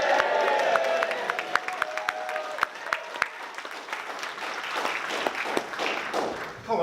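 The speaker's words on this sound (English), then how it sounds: "with that has to be rock star cheering or applause" An audience at a leadership speaking session bursts into cheering and applause to honour someone, with dense clapping and excited whoops and shouts, loud and close at first, then settling into steady, slightly thinner clapping.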